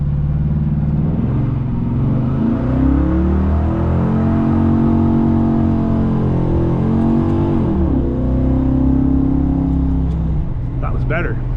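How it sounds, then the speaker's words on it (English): A Pontiac car does a burnout, its engine holding a loud, close, continuous roar as the revs rise and fall throughout, with a brief lull before it swells again. "It's part of the reason doing a burnout, to see what your tires are doing."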